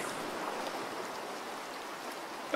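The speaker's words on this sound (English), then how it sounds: "It's still raining" Steady rain hisses continuously in the sailing video game Sailwind, a dense wash of falling water at moderate volume with no other sounds.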